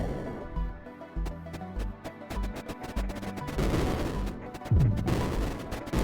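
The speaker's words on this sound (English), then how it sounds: "The off-screen explosions are bots and some of our stuff" Off-screen explosions from bots and structures in the strategy game Creeper World IXE, a rapid string of sharp booming blasts and crackles layered over electronic game music, dense and loud throughout.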